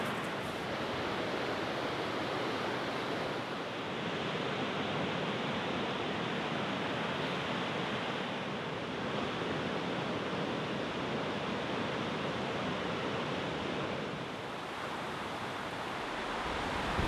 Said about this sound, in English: this is it. Sweden's highest waterfall